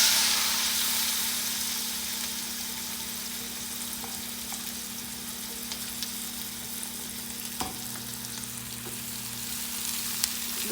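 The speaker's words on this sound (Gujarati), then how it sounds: "ડુંગળી બ્રાઉન કલરની થાય ત્યાં સુધી આપણે એને સાતળવા દઈશું" Onions and dried red chilies fry in oil for Punjabi chole, a continuous close hiss and crackle of sizzling with a steady low hum underneath and an occasional sharp tick.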